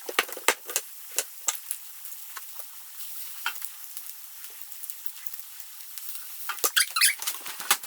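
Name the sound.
onion sautéing in a pan, garlic being added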